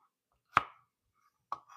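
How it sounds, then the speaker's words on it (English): A knife chops gumbo ingredients on a board: two sharp, quiet strikes about a second apart, each with a short ringing tail, and no talking. "let's finish up chopping up the rest of these guys in here"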